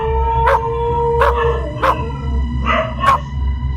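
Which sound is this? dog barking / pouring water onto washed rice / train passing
dog barking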